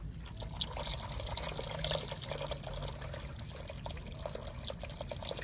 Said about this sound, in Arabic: هذا الماء بارد اللي كبيت دابا عاد غادي ندير ليه الماء سخون